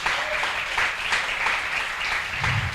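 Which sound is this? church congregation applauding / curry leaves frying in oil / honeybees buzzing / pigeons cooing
church congregation applauding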